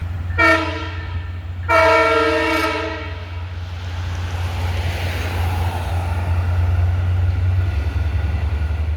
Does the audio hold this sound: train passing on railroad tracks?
yes